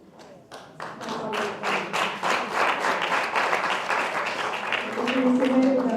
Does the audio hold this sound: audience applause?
yes